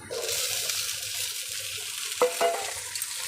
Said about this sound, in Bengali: পেঁয়াজ রসুনগুলো লাল লাল করে ভেজে নিয়েছি, এবার বটবটিগুলো দিয়ে দেব।